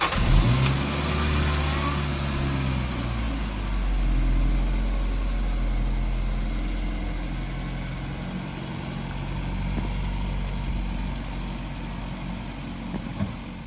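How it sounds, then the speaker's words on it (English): Ford Focus engine running outdoors as the car is moved back onto a slope, a steady mid-pitched hum with slight revs rising and falling, close and continuous throughout without talk. "we're going to move the car back to the slope"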